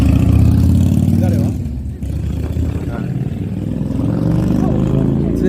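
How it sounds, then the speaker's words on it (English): A car and a motorbike pass close by on a street, their engines rumbling loudly, dipping briefly as one goes by and then rising again. "Wait for this car. Okay. There's motorbike now as well."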